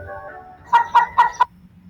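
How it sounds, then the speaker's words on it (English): A chicken gives four quick, sharp clucks in a tight, even burst, close and clear, after a faint lower tone. "Chicken."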